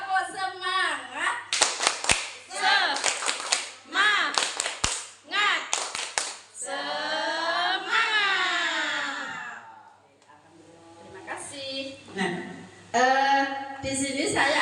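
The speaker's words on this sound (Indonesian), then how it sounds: "Siap, tepuk semangat." A group performs a rhythmic spirit clap, bursts of sharp hand claps in quick patterned sets, with chanting voices and a child-like vocal passage between them in a school teacher-training setting.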